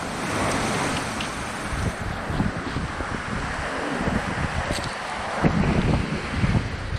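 Steady wind roaring across the microphone with ocean waves surging and breaking on an island shore during the northeast monsoon, loud and continuous with no voices.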